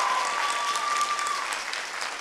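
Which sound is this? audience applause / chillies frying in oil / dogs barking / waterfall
audience applause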